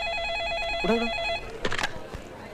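A telephone ringing with a bright electronic trill, repeated in a steady pattern, then cut off as the handset is picked up with a clatter.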